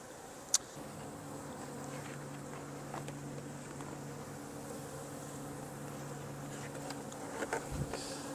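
Honey bees drone steadily around a swarm being hived into a box. The buzzing is a constant, fairly soft hum with a brief sharp click early on and a few small bumps near the end.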